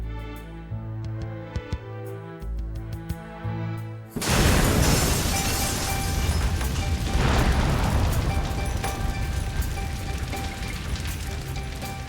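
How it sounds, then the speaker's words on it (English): A massive blast rips through a quiet suburban street, destroying several houses: a sudden loud boom after a calmer opening, then a long, dense roar of crashing and falling debris that lingers to the end. "a massive explosion obliterates 4 homes and damages dozens of others on a quiet street"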